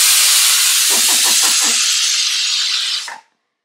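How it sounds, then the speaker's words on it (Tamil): Pressure cooker cooking karamani lets out a loud, close, continuous steam whistle and hiss with a brief fluttering rattle partway through, then cuts off abruptly into silence. "இப்போ வந்து காரமணி ரெண்டு விசில் வச்சுருக்கேன்"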